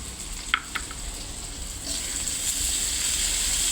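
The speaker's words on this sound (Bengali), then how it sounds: "এবার হলுদ গুঁড়ো আদা পেস্ট দিয়ে কিছুক্ষণ নেড়ে দিব" Turmeric powder and ginger paste stir-fried with sliced green chillies for a winter vegetable bhaji, a soft frying hiss rising slightly over a few seconds, with a couple of brief utensil clicks near the start.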